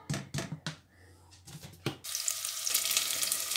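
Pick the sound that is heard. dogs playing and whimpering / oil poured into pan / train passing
oil poured into pan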